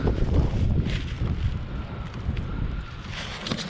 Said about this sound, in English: Listen to that wind ripping.